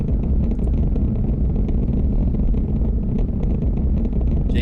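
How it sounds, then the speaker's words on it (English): Loud rocket engines in the Kerbal Space Program game rumble in a steady, dense roar that fills the whole clip without a break. "These engines are loud."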